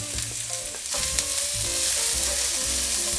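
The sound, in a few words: onions and bacon frying in a pan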